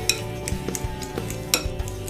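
A spoon breaks up and mixes guacamole in a bowl, giving a run of soft, wet squelches and irregular scraping clinks close by, with no talking.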